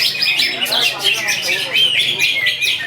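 A green leafbird sings at a bird contest, pouring out loud, rapid, high chirps and whistled phrases in a continuous stream, with a voice faintly audible underneath.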